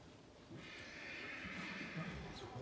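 A horse whinnies at a horse show while being led, a loud drawn-out neigh rising over background crowd noise and faint hoof clatter.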